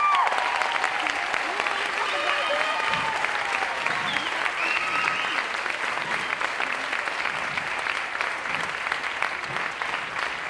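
Dense, sustained applause and cheering from a dance show audience, honoring a performer named Abelardo, fills the room without a break, with shouts and whoops rising over the steady clapping.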